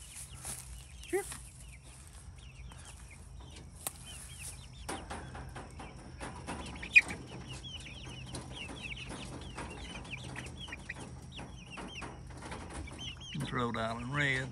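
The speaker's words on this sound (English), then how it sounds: "Let's go look at the my poor chickens, three hens and a rooster" Rhode Island Red chickens on a farm, hens and roosters, clucking and chirping in scattered bursts through the clip, fairly near, with a low steady hum underneath and a voice speaking briefly near the end.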